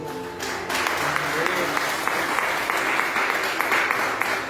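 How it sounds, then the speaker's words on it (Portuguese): Church congregation applauding during an evening evangelical service, a steady wash of many hands clapping that starts abruptly and holds at full strength, with a voice speaking over it. "Aplauda ao Senhor nesta noite."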